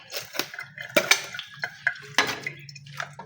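A large pile of dishes being washed by hand, with clattering plates, clinking cutlery and pots knocking together in short irregular bursts at close range.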